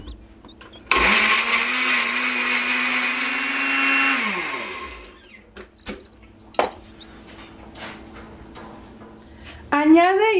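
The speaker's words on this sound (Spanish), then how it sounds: "Y vamos a licuar." A blender whirs loudly for about four seconds blending garlic, cucumber, cilantro, salt and lime juice, then winds down, followed by scattered knocks, clatter and brief kitchen sounds.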